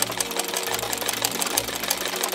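A sewing machine runs steadily while stitching a seam on a small embroidered napkin, its needle clattering in a fast continuous rhythm with faint pauses as the fabric is guided, loud and close with no talk.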